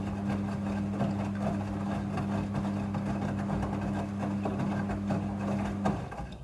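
A front-loading, fully automatic washing machine runs its wash cycle with a steady low motor hum under soft irregular clicks and churning. The sound is close and continuous, then eases off at the end.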